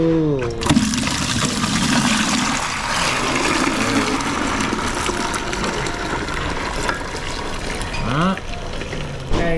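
Sanitizer water runs through an ice cream machine at a farm market, a loud, steady gushing rush that continues for the whole stretch, with brief gurgles and a valve-like squeal near the start and toward the end.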